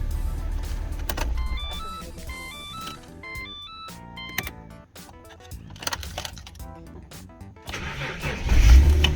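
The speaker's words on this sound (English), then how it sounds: "I'm just going to turn it off and hopefully it starts again." A Ford Falcon car engine is switched off and cranked back to life, with clicks and whirring during the restart and a low engine rumble that swells near the end. No one speaks.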